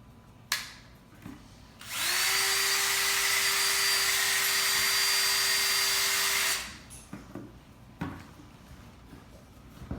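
A power drill whirs at a high, steady pitch for several seconds on its highest speed setting, starting and stopping abruptly, with a few light knocks and clatters before and after.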